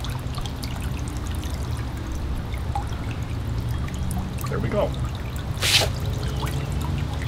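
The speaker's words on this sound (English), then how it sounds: "Got a nice little spray of water." Small garden water feature with its pump running, a constant close hiss and splash of spraying water with faint drips, and a person briefly speaking over it.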